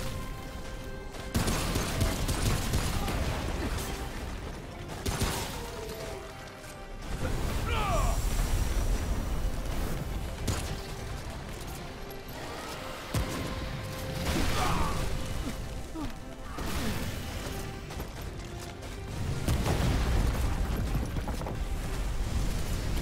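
Sustained gunfire and crashing combat noise during a fight against the boss Singe in Remnant: From The Ashes, loud dense bursts broken by short lulls, with mechanical clatter and whooshes throughout.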